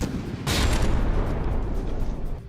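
Warship guns firing in the From the Depths naval combat game, a loud booming salvo that swells into a rumbling, crackling barrage lasting a couple of seconds.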